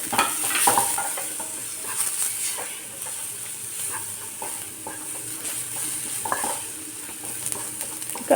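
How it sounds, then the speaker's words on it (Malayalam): Grated coconut and curry leaves frying and sizzling in a pan for a Kerala banana flower and dal thoran, with steady stirring scrapes and hiss running throughout, close and moderately loud, with no talking. "അതിലേക്ക് കുറച്ച് തേങ്ങ ചിരകിയ തേങ്ങ ഇട്ട് കൊടുക്കുന്നുണ്ട് തേങ്ങ ഇട്ട് കൊടുത്ത് കറിവേപ്പിലയും കൂടി ഇട്ട് കൊടുത്തു"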